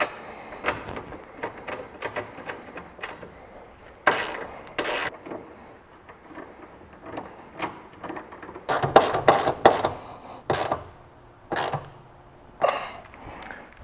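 A ratchet clicks in short bursts while nuts and bolts are tightened on a TCS Motorsports X brace for a Toyota MR2, with sharp metallic rattles and pauses between strokes, fairly close and moderately loud.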